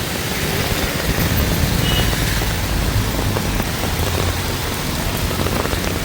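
Heavy rain from a storm pours steadily over a Kerala village near Calicut, a dense, loud, unbroken hiss of falling water with no voices.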